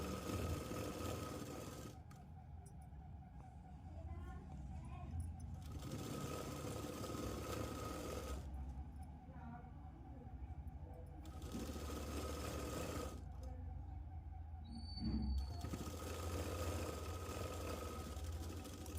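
A domestic sewing machine stitches a Punjabi dress in several long runs of steady mechanical whirring, broken by short pauses, close and fairly loud.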